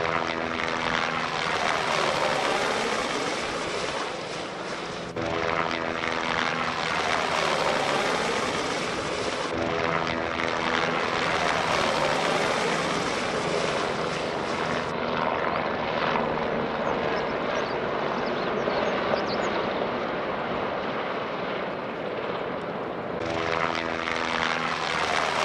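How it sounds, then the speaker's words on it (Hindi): A helicopter drones loudly and continuously with rhythmic rotor chopping, holding close and strong throughout with slight swells, on the Baltal route of the Amarnath pilgrimage. "देखिए वो आ रहा है हेलीकॉप्टर"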